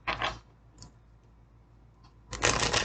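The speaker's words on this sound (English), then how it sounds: "Okay, let me shuffle." A deck of tarot cards is shuffled in two short riffling bursts, one at the start and a longer one at the end, with faint clicks in the quiet gap between.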